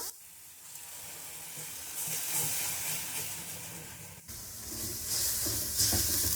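Half a cup of yogurt hits sizzling chicken white karahi cooked with garlic-ginger paste, setting off a loud, hissing sizzle that swells and steams steadily, with a brief break before the sizzle surges again.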